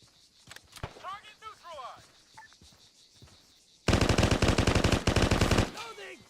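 Rapid automatic gunfire from a weapon in the military video game ArmA, a loud sustained burst of fast shots lasting about two seconds after quieter moments with someone talking.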